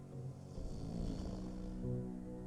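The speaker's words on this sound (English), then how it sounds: "That's some loud ass snoring happening right there." Loud snoring from a character in the Nancy Drew video game, slow rasping breaths rising and falling twice, close and steady with no talking.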